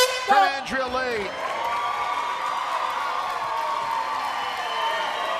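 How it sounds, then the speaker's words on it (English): A sellout crowd roars steadily at an LFA title fight in Bossier City, a broad, sustained wash of cheering with a commentator's voice briefly rising over it at the start. "Sellout crowd in Bossier City, loving the display from their own."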